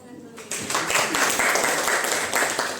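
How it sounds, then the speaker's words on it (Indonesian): A classroom or school audience bursts into clapping after a pause, a dense, close patter of many hands that holds steady for a few seconds. "Bisa kasih tepuk tangan dulu."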